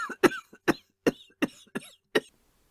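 A woman coughs in a rapid series of about seven sharp, hacking bursts, close and fairly soft, with no other sound around them.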